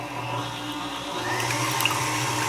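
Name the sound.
stand mixer with whisk attachment beating egg whites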